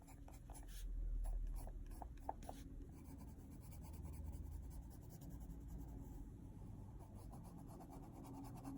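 Black pencil scratching steadily across paper while darkening shaded areas of a drawing, a soft continuous rubbing texture of close strokes, quiet and without talk.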